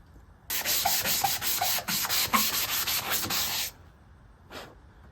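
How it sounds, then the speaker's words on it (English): Steady abrasive sanding rasps across the body of a 1985 Chevrolet Impala for about three seconds, close and loud, then stops; a brief lighter scrape follows. "Sanding the whole thing down."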